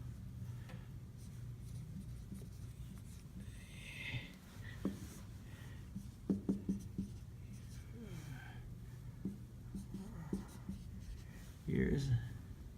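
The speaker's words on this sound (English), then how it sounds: "I'm going to just write this down" Handwriting on paper: soft, close scratching strokes in short bursts, heard beneath a person talking.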